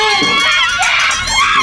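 Students in a loud, dense crowd cheer and shout at the finish of an international secondary school cross country race on Nevis, with high excited voices rising and falling throughout.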